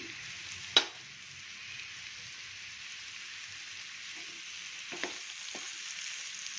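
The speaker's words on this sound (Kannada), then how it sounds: "ಸಿಮ್ಮಲ್ಲೇ ಇಟ್ಕೊಂಡು ಫ್ರೈ ಮಾಡಬೇಕು. ಇವಾಗ ಕೊತ್ತಂಬರಿ ಸೊಪ್ಪು, ಕರಿಬೇವಿನ ಸೊಪ್ಪು ಹಾಕ್ತೀನಿ." Watermelon rind fries on low heat with coriander and curry leaves, giving a steady, even sizzling hiss throughout, broken by one sharp clink early on and a couple of soft stirring knocks near the end.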